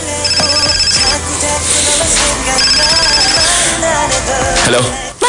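A telephone rings loudly and repeatedly in a steady electronic ringtone pattern, close and continuous with no talk over it.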